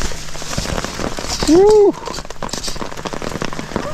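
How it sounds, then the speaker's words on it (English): Steady rain pours down on a spring crappie fishing outing, a dense continuous patter close around, with a person's brief whoop cutting through midway. "here comes the rain"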